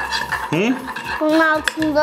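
Utensils clink and scrape against a container while red dye is stirred into a liquid, with short irregular knocks, and voices talking over it.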